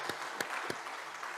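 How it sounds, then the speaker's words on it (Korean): A church congregation claps to welcome a newly arrived family at Sunday worship, a steady wash of moderate clapping with a few sharper individual claps standing out near the start. "우리 한번 박수로 한번 환영하겠습니다"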